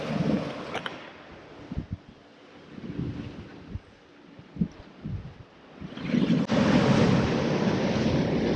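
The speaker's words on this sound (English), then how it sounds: "hopefully once the waves and wind have died down a bit." Wind and waves at sea aboard a single-handed sailboat crossing the Bay of Biscay, with gusty wind noise on the microphone, sharp thumps and sloshes, then a loud rushing surge of water near the end.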